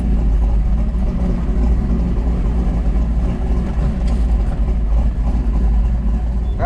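A street car fitted with a 4500-stall torque converter pulls away with a loud, low, rumbling engine drone that holds steady throughout, heard from inside the car without any talking.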